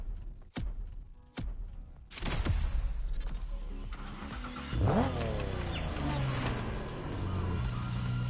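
A few sharp clicks, then a car engine fitted with an Ultra Charger Kit in the video game Motorfest starts and revs hard, its pitch rising and falling in a loud, sustained roar.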